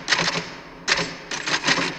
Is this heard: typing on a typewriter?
yes